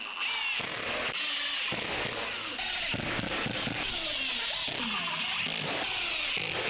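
Cordless drill driving 3/4 inch screws into stacked 1/2 inch plywood sheets, a loud continuous whirring motor with several short bursts and pauses, no talking.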